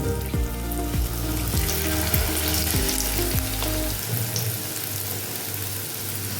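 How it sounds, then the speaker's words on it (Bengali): Egg and cauliflower batter frying in hot oil, a loud, steady crackling sizzle with occasional splashes and low knocks from the pan, continuous with no voices. "এই ব্যাটারটাকে আস্তে আস্তে গোল গোল করে ভেজে নেব"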